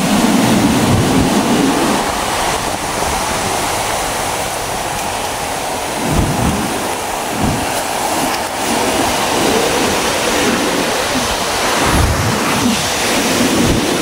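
Sea waves breaking on a dark shore at a beach campsite, a loud, constant roar and wash with wind buffeting the microphone and several heavier surges rolling in every few seconds.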